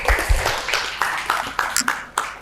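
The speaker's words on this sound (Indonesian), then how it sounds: "Tepuk tangan dulu." A class applauds in a run of sharp, moderately loud claps spread evenly across the moment, a few strong individual hits standing out with no talking over them.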